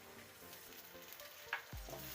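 Tomatoes frying in a pan for chana dal and keema, a quiet sizzle with light stirring scrapes and a sharp clink of a utensil near the end, close and faint, no voices.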